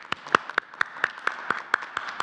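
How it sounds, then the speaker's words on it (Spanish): Steady applause at a government health press conference on COVID-19 in Mexico, a handful of rhythmic, evenly spaced claps, fairly close and moderately quiet. "Vamos a darle un aplauso."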